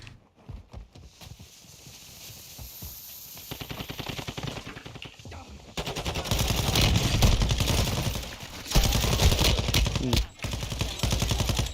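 Rapid automatic gunfire in a video game, loud and sustained in long dense bursts with brief pauses, the rattling volleys layered over faint game noise.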